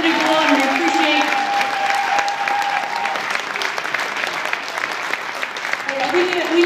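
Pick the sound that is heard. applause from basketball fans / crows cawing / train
applause from basketball fans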